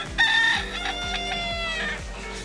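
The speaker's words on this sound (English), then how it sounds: "no better way to start the day than the traditional Key West rooster" A rooster in Key West crows loudly and close by in a drawn-out call, with steady background noise and no talk.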